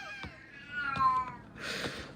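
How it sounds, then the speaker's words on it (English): An old cat meows several times in quick succession, close and fairly clear against a quiet room, the last call rougher and breathier. "The old pensioner cat's chatting."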